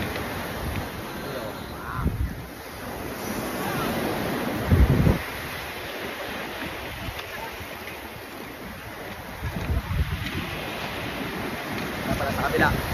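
Sea waves wash onto the shore at a beach resort in Real, Quezon, with steady surf and wind buffeting the microphone and a few louder swells breaking through.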